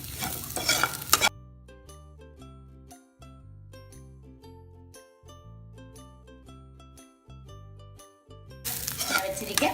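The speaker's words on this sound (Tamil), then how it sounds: "கை எடுக்காமல் கிண்டணும்." Goat intestine fry sizzles in a pan as it is stirred, with brief scraping and frying bursts at the start and end and music playing in between.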